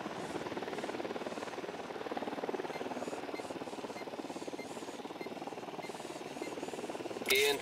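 Helicopter in the video game Ghost Recon Wildlands: a steady, close rotor and engine drone with a pulsing beat that runs unbroken throughout, swelling into a brief louder burst at the very end.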